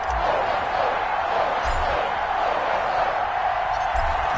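Steady, dense crowd roar fills a simulated NFL stadium in Foxborough before a Baltimore Ravens vs New England Patriots game in Madden 21 on PS4, a constant wash of noise without distinct cheers.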